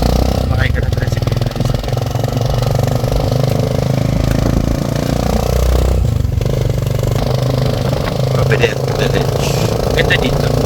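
A tricycle's motorcycle engine drones steadily while riding, a loud continuous rumble with road clatter throughout, and people talk over it.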